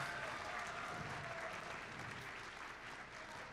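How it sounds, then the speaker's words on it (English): Broad, steady applause from a large audience at a FIRST robotics district event opening ceremony, a dense wash of clapping that holds at full loudness for several seconds with little variation. "Give them a huge round of applause for making this game possible"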